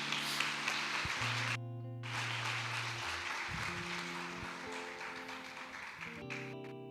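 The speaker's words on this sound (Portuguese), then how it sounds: "Vamos dar uma salva de palmas para os meninos aqui." A crowd applauds with a dense wash of clapping, steady and fairly loud, with music tones running underneath.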